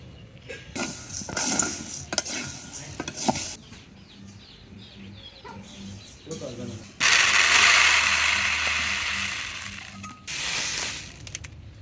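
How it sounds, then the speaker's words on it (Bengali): Black gram is roasted in sand in a village kitchen, with gritty scraping and rattling bursts as the sand and lentils are stirred, one long loud sweep in the middle, while chickens cluck softly in the background. "এটা কিন্তু বালু দিয়ে ভাজতে হয় বালু দিয়ে ভাজলে কালাইটা সুন্দর হয়"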